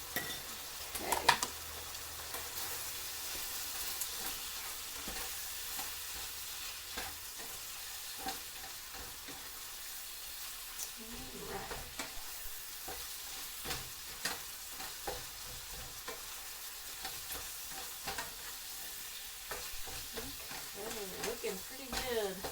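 Browning food sizzles steadily in a frying pan while making stuffed peppers, with scattered stirring clicks and scrapes over a continuous frying hiss.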